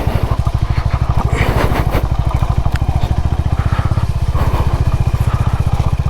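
Motorcycle engine thumping steadily up close while riding a rough hill road toward Dalma Wildlife Sanctuary, the pulsing exhaust constant and loud with scattered clatter from the bumpy surface throughout.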